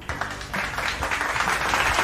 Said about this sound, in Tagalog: Pumalakpak nga kayo kung handa na.